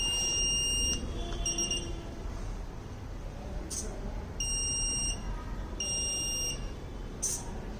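An electronic alarm buzzer on an ATM security system, triggered by a vibration sensor, sounds in repeated high-pitched pulsing bursts, loud and near, over a constant background rumble.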